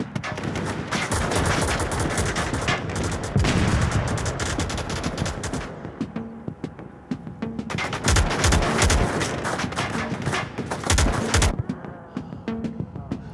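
Gunfire in the VR shooter Onward comes as dense, loud bursts of automatic fire and single shots in clusters, with short lulls between them and heavy booming impacts near the end.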